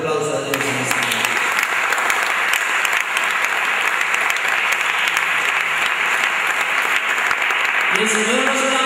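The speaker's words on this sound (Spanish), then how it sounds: "Démosle un fuerte aplauso a Dios en esta mañana." A church congregation bursts into sustained, loud applause during a Sunday morning service, dense clapping filling the room for several seconds with a few voices briefly audible at the start and end.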